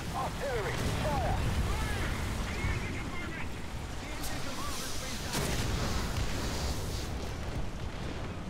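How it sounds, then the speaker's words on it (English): Artillery fire in the War Thunder video game, a dense continuous rumble of distant booms and blasts layered with game noise and radio-style voices throughout. "The artillery is on the position. Roger that. Artillery, fire!"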